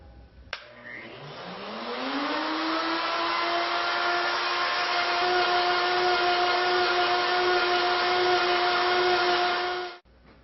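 Wood router with a bottom cleaning bit milling wood stock for a three-leg pedestal, spinning up into a steady high whine that holds for several seconds before cutting off.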